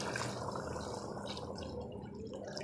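Water is poured into a cooking pot while making beef pulao, a continuous splashing, trickling pour that stays close and steady for a few seconds with no speech.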